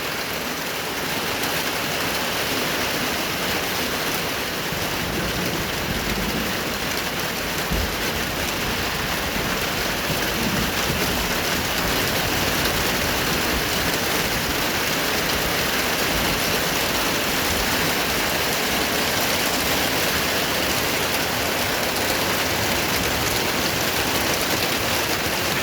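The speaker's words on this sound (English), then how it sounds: "Here we go, back to the hard rain, waking me up in the morning." Hard rain pours steadily during a thunderstorm, a dense, unbroken hiss of drops hitting surfaces all around, loud and constant for the whole stretch with no voices.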